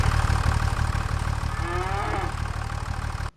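Cattle in Farming Simulator 25 on PS5 give a single drawn-out moo over a steady idling engine hum, loud and close, before the sound cuts off abruptly.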